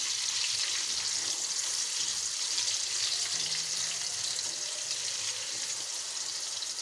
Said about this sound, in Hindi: एक मीडियम साइज़ का प्याज है जिनको हमने स्लाइस की शक्ल में काट लिया, वो हम इसमें ऐड कर देंगे